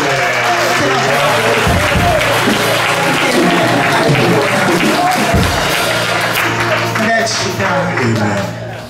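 Congregation at a Sunday church service applauding to acclaim the Lord, loud sustained clapping from many hands mixed with voices and a low musical hum underneath.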